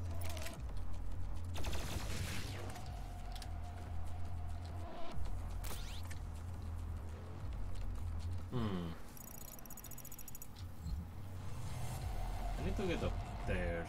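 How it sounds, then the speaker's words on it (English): Rapid bursts of gunfire from the first-person shooter DOOM Eternal, loud volleys and single blasts scattered across the stretch, layered with game music and effects, and a voice talking over parts. "I mean, here gunshots."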